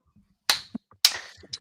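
Two sharp hand claps ring out close by in a quiet room, spaced about half a second apart, each followed by small faint knocks.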